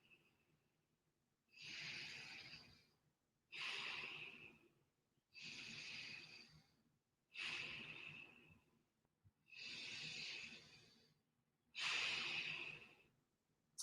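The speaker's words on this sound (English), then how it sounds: "we're going to take 3 deep breaths here" Six slow, deep breaths taken during a standing hamstring stretch, each long airy inhale or exhale separated by short pauses, close and clearly audible with no talking.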